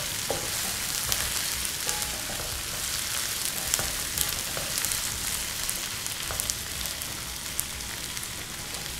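Chicken and onions fry together in a pan for shahi biryani, giving a dense, steady sizzle with scattered crackles throughout, close and even in loudness, with no talking.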